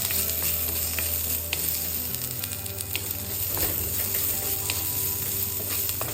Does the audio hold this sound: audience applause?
no